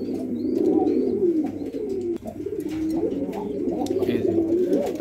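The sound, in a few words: Jhorna satin pigeons cooing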